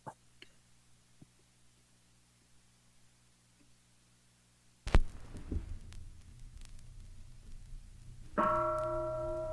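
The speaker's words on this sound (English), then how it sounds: "Then you'll hear a bell" A single bell rings from a Zen recording after a quiet pause, a sharp strike followed by a sustained ringing tone that lingers and slowly fades.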